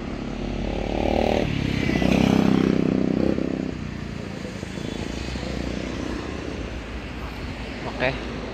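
A motorcycle engine runs nearby in Japan, its drone swelling and fading over several seconds while people talk over it.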